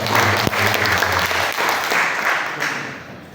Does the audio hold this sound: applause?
yes